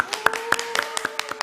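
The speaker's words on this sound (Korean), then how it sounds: "자, 우리 박수 한번 할까요?" Church worship service clapping, a few sharp, evenly spaced claps in a steady rhythm, close and distinct, alongside a sustained musical tone.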